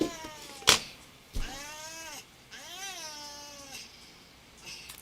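A cat meows repeatedly, long drawn-out wavering calls with a sharp click or thump before them, heard close up in a quiet room with no talk.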